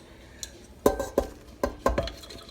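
Flour going into a mixing bowl for pretzel dough with olive oil: several sharp clinks and knocks of a utensil against the bowl, four or five distinct hits in a loose rhythm, close and moderately loud with no talking.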